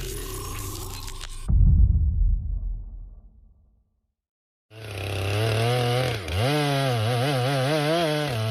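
A Stihl MS-462 chainsaw cuts into a large fir tree, first a revving burst and a crackling of wood that fades to silence, then the saw roars back in at full, steady revs with slight pitch wobbles.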